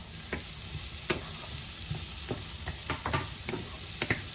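Chopped mushrooms and thyme sizzle and fry steadily in a pan for a parmesan mushroom risotto, with scattered soft clicks of stirring breaking over a continuous close hiss.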